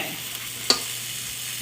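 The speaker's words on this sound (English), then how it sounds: "I'll give this a quick stir." Steak and snow peas stirred in a sizzling pan for a stir fry, a steady frying hiss with one sharp scrape of the utensil against the pan, close and alone.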